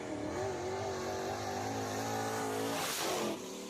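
A race car laps a dirt speedway during a qualifying heat, its engine a sustained distant drone that rises slightly in pitch before easing off near the end; no talk.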